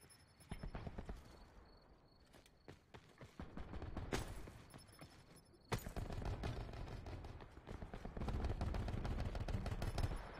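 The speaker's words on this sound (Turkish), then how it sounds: "yine tek tek atan silah" Single-shot gun firing in Call of Duty Black Ops 4, a quick run of sharp repeated shots with gaps, then denser bursts later, fairly faint under game background noise.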